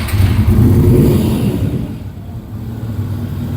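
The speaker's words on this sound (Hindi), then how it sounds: "ये बड़ी अच्छी साउंड है, वी ट्विन इंजन है इसके अंदर" Heavy V-twin motorcycle engine blipped with a deep, loud rumbling rev in the first second or so, then dropping back to a quieter lumpy idle.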